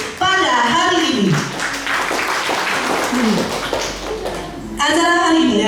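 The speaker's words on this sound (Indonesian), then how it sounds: "kita beri tepuk tangan yang meriah kepada semua orang yang sudah hadir pada hari ini" Audience applause at a school teacher-training talk show event, a dense wash of clapping sustained for several seconds between stretches of amplified speech.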